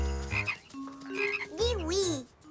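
Cartoon frogs croak in a French-language children's animation, a few loud, warbling, pitch-bending croaks in close succession.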